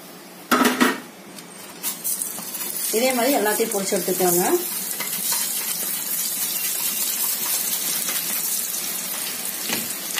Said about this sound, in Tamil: இதே மாதிரி எல்லாத்தையும் பொரிச்சு எடுத்துக்கலாங்க